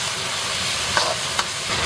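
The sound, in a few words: stir-frying pickled chilies and aromatics in oil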